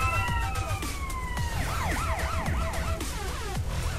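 An emergency vehicle siren wails in GTA San Andreas, with a long falling tone that switches to a fast, close, loud warbling yelp over rumbling game noise.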